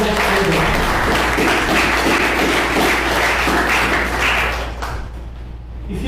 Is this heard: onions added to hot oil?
no